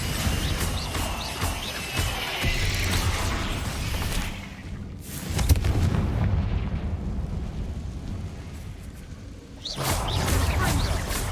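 Bombarda and Confringo explosion spells in the Hogwarts Legacy video game, loud booming blasts that come in three heavy waves with rumbling decay, separated by brief quieter stretches.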